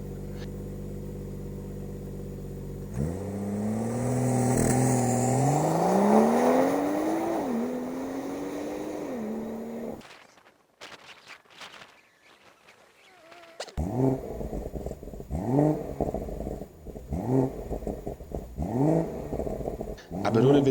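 A BMW M140i's exhaust under hard acceleration: a loud rising engine roar, a brief quiet gap, then a run of sharp revving bursts with crackling pops between them, heard close with no talk.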